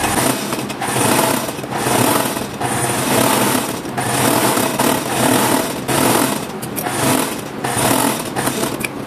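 Fast, steady whirring hum of a sewing machine stitching a seam on women's dress shorts, running in bursts with brief pauses, loud and close.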